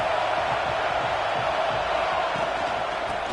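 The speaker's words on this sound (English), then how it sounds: "This crowd ready to make its presence known." A stadium crowd at a college football game against Texas A&M gives off a steady, distant roar of massed voices, a constant wash of noise without distinct cheers or peaks.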